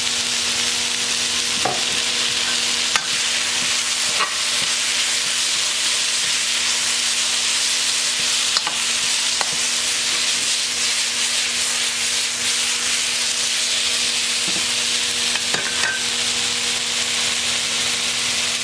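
Eggplant stir-fries over high heat with sesame oil, giving a steady, close hiss of frying with occasional scraping and stirring clicks from the pan throughout.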